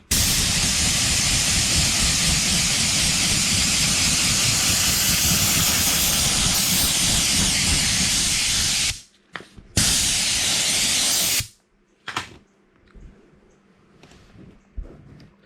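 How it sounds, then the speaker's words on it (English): A steam cleaner sprays upholstery fabric in an SRT4 car, with a loud, steady close hiss for several seconds, then a few short spurts that cut off and leave quiet gaps. "I do have a steam cleaner, but check this out."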